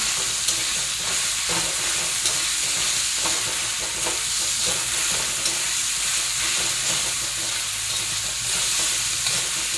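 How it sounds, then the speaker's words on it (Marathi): A green chili paste with ginger and garlic sautés in oil in a pan, a loud, dense, continuous sizzle with faint stirring underneath, close up and without voices. "याचं वाटण टाकते, हिरव्या मिरचीचं। चांगलं असं परतून घ्यायचं"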